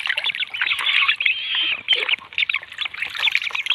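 Pet purple swamphens (kalim birds) call from a rooftop cage, a dense, loud, nasal honking chatter that runs continuously with brief dips.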